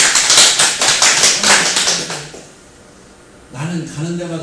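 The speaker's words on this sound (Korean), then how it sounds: "네, 박수로 격려해 줍시다." Church congregation applauding during an evening worship service, a burst of rapid clapping that fades out, followed by someone speaking.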